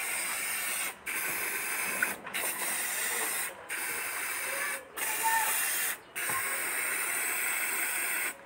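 An aerosol can of black spray paint hisses in a series of long sprays onto shoes, each separated by a brief pause, steady and close.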